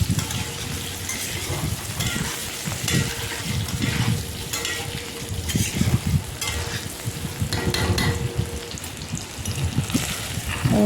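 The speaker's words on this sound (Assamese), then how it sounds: "প্ৰথমতে মই আলুখিনি ফ্ৰাই কৰিছোঁ।" Potatoes frying in hot oil in a pan for an egg and potato curry, a steady close sizzle and crackle with occasional stirring scrapes, continuous throughout with no talking.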